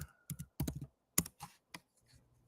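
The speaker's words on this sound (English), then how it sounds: "So here, if I type in plumber" Someone types a search word on a computer keyboard, a quick run of about seven separate crisp key clicks in uneven rhythm, close and fairly quiet, with no talk.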